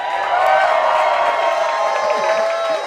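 A comedy club crowd at a Pride show claps and cheers loudly for a few seconds, whoops rising over dense clapping, with a voice shouting over the noise.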